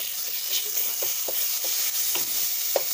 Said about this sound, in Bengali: এবার আমি টমেটোটা দিয়ে দিয়েছি, টমেটোটা একদম মিশিয়ে দেবো টমেটোটাকে,